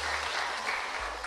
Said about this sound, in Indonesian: Tepuk tangan buat dia itu